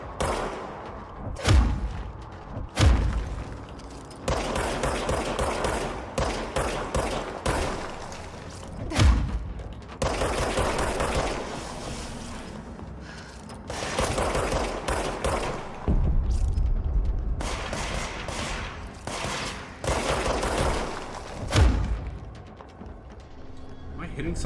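Gunfire in the video game Control, with repeated loud bursts of shots and heavy impacts in clusters, separated by short pauses, while a player's voice talks throughout.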